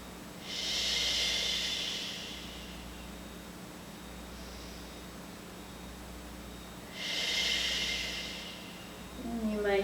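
Two long, audible breath exhales through the nose during a yoga stretch, each a soft airy hiss lasting a couple of seconds, separated by quiet room tone, with a faint voice beginning at the end.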